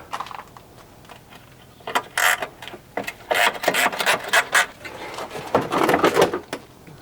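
Ratchet clicks and metallic clatter come in uneven bursts as a fender bolt is loosened on a Lexus GX470, close and moderately loud with pauses between strokes.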